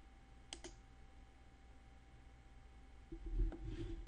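Two quick mouse clicks sound close and crisp against near silence, followed by a soft rustling shuffle toward the end.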